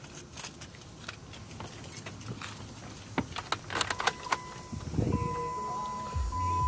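A bunch of car keys for a Jeep Patriot jangles in irregular metallic bursts close by, followed by a brief rattle and handling noise.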